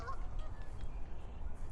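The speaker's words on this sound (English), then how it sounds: "Got some geese out here flying around and splashing around." Geese honk outdoors in a brief, continuous burst of calls over low rumbling background noise, with faint splashing from birds moving on the water nearby.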